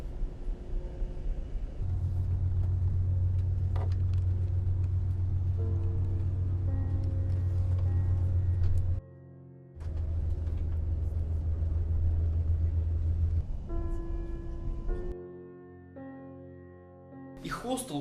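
Low, steady engine rumble inside a long-distance bus, droning continuously for long stretches, briefly dropping out, then returning before fading to a quieter idle near the end.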